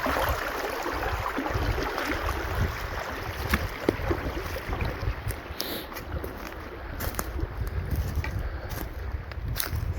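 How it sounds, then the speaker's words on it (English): Footsteps wading through water at a beaver dam on a trail, a steady splashing and sloshing over outdoor stream flow and light wind, close and continuous throughout. "looks like it might be even just safer to walk through the water"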